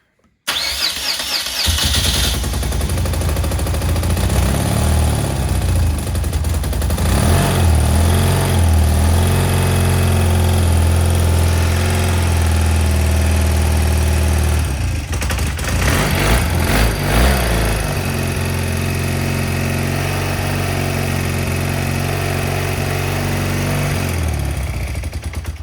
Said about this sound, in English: So we're going to do our first start and see if it goes.